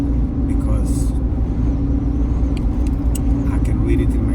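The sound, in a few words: car driving on a snowy road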